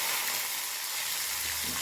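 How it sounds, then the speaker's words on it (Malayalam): Finely chopped shallots and whole spices frying in hot oil for a special egg curry, a soft, even sizzle with a faint stir near the end, quiet and close with no talk. "നന്നായി ചെറുതായി അരിഞ്ഞു വെച്ച ചെറുള്ളി ഇടുകയാണ്"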